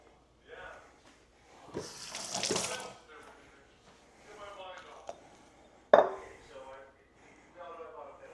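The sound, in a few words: water running from tap while wetting hands for sourdough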